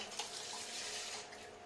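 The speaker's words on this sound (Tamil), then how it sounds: "இன்னும் கொஞ்சம் ஜார் கழுவுன தண்ணி எடுத்து ஊற்றுங்க." Water from rinsing a blender jar poured into a pot of hotel-style mutton salna, a short soft splashing stream that runs steadily then tapers off, fairly quiet.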